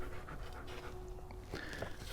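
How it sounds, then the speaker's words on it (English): A dog pants rapidly and close by in quick, breathy bursts, with a faint steady hum in the background. "Say hi to everybody, Sydney, over here panting like a dog."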